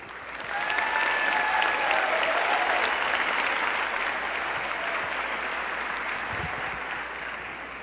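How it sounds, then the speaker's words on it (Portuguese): Sustained applause from a church congregation during a Catholic sermon, a dense, steady wash of many hands clapping that swells quickly and holds evenly for several seconds. "Pode aplaudir."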